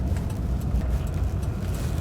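A manual car's engine idles steadily while the car holds on an uphill in city traffic, giving a low, continuous, close rumble with no talking.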